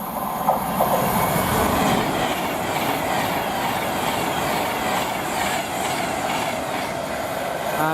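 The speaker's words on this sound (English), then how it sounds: "we've got a Class 390 heading to Manchester Piccadilly" Class 390 electric train passing at Tamworth on the West Coast Main Line toward Manchester Piccadilly, a sustained rolling rumble with rhythmic wheel clatter and brief squeal, fairly close and steady throughout.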